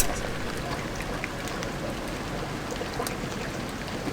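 Steady rain in the video game Deus Ex: Revision, a dense continuous patter and hiss with scattered drop ticks, even and unbroken throughout, no voices.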